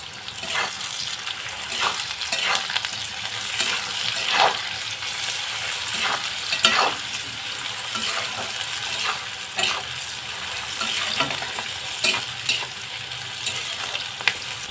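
Masala chicken pieces fry in a pan while being stirred until brown, giving a continuous close sizzle and hiss with regular scraping and clinking strokes of a spoon throughout.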